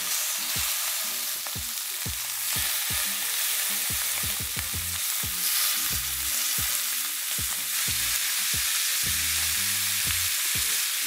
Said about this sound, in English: You want there to be enough fat in the pan to sufficiently bubble kind of around each piece of meat.